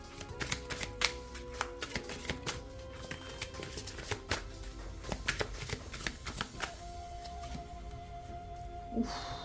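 Tarot cards are shuffled by hand in rapid riffling bursts, a dense run of crisp papery flicks and slaps, close and clear with no talking.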